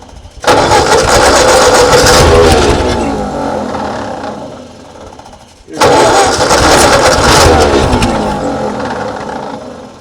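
A 1939 Ford tractor that sat in a field for over twenty years, engine cranking loudly and sputtering in two long attempts with a brief pause between, close by and without talk over it.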